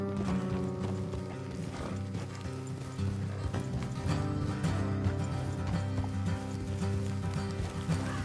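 Horse hooves in the video game Red Dead Redemption 2 clop steadily under a dense, continuous bed of game music and ambience, with a faint whinny now and then, the riders' gait staying loud and even throughout.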